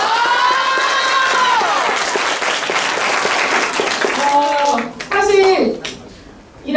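Students clapping at a school orientation. The dense, broad applause runs under loud voices and tonal sounds, then thins briefly near the end before rising again.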